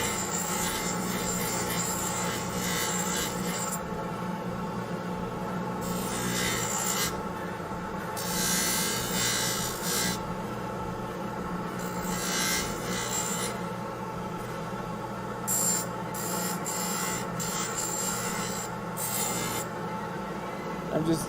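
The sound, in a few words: trimming an acrylic orthodontic appliance with a rotary trimmer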